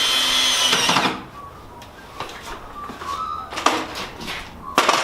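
A power drill drives screws into a timber storage rack, one loud whirring burst at the start followed by shorter, quieter bursts and clicks of handling the boards.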